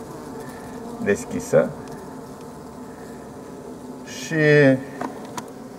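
Honeybees buzz around a hive's upper entrance slot as colonies are prepared for wintering, a faint steady drone with a couple of louder close passes, heard under someone talking quietly.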